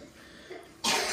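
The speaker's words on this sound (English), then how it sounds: "if you hear some coughing in the background" A boy coughs once, a single sharp cough bursting out after a quiet moment, close and fairly loud.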